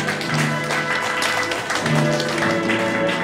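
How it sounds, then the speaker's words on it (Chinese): Applause from the audience at a poetry festival award ceremony, a steady, moderately loud patter of many hands with a faint tonal hum beneath, lasting throughout. "掌声欢迎"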